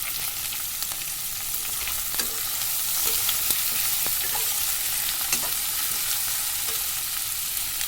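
Chopped tomatoes fry in a pan with a sprinkling of salt, cooking for a Boroli fish and mustard dish. A steady close hiss of sizzling runs throughout, with occasional soft stirring clicks and scrapes and no voices.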